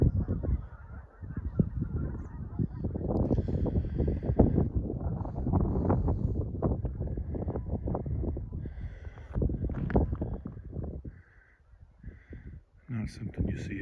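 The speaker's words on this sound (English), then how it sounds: "Apparently a lot of geese at the far end of the lake." Geese honking repeatedly from the far end of Clayton Lake, New Mexico, under gusty wind noise, with someone talking over much of it.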